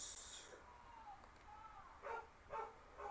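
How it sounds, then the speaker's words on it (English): A dog barking somewhere in the background, a few faint, muffled yips and barks in quick succession near the end, with indistinct room noise before them. "Don't know what my dog is barking at."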